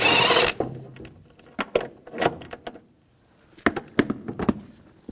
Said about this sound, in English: I'm going to take this bolt out. Use a 16mm socket.